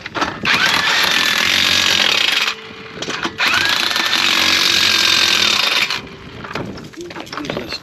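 A power impact tool tightens lug nuts on the wheel of a 2013 Dodge Avenger in two loud, sustained buzzing bursts of a few seconds each, close by, with a short pause between them.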